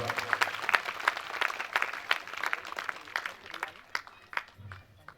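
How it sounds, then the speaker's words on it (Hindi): Scattered clapping from a gathering at a 51-kund yajna religious event in Jhangatola, Mandla, uneven and fairly faint, with bursts that fade and some voices mixed in. "जोरदार ताली।"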